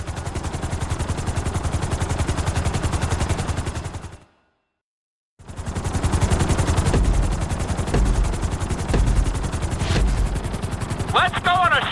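Helicopter in GTA 5 during a flight-school lesson, a loud, steady, rapid rotor chop droning close by, cutting out briefly to silence and resuming with engine whine and a voice over the top.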